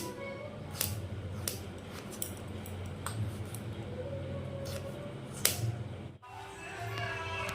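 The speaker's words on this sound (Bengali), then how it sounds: "আলুটাকে দেখো পাতলা পাতলা করে কেটে নেবো" A potato is cut into thin slices with a knife on a stone slab, giving sharp, crisp clicks at irregular intervals over a low, steady background hum.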